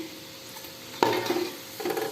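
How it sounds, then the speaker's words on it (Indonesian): Potato croquettes fry in bubbling oil, a faint, steady sizzle broken by a sharp clink of a utensil against the pan and brief stirring scrapes nearby. "makanya dia minyaknya seperti ini nih, bergelembung-gelembung."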